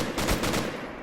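Rapid machine gun fire from the WWII strategy game Men of War: Assault Squad, a dense, fast burst of loud close shots running the whole way through.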